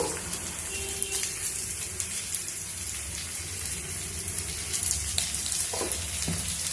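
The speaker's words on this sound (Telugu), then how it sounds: "ఇప్పుడు చామదుంపల్ని కూడా వేసి ఫ్రై చేస్తాం" Taro root pieces frying in a pan, a continuous crackling sizzle with occasional utensil scrapes and clicks, close and fairly loud, with no speech.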